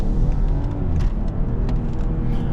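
BMW 540i xDrive engine and exhaust heard from inside the cabin while driving, a steady low rumble and drone, fairly loud and continuous, with faint brief clicks above it and no talk.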